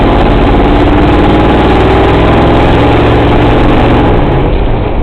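A modified Mercury Comet GT engine drones loudly and close, a dense throbbing rumble with strong steady harmonics that holds with little change in pitch.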